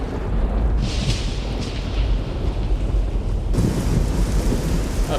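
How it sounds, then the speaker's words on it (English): Rain and thunder fill the Capital Wasteland in Fallout 3, a loud, steady downpour with deep rumbling thunder rolling underneath and a sharp surge in intensity partway through. "now it's raining in the Capital Wasteland"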